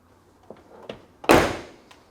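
The rear door of a 1999 Chevrolet Suburban 1500 swings shut with a single solid, loud thud, preceded by a couple of faint handling clicks and followed by a brief rattle.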